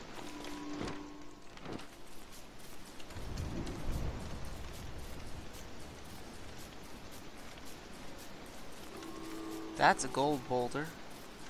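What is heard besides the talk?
rain in video game Don't Starve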